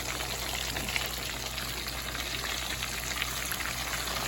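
Pork chops fry in a pan with a dense, continuous hiss and crackle, steady and close throughout, with no talking.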